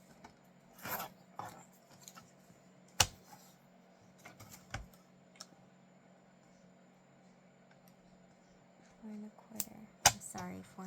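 Scissors cutting card paper for a handmade Valentine card, with short scattered snips and rustles close by, separated by quiet gaps and a faint steady hum.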